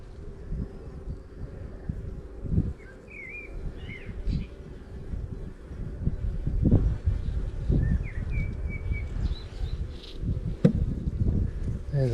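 Honey bees buzz continuously around an open hive during a beekeeping inspection, a dense close drone with occasional louder passes near the ear and faint birdsong chirps in the background.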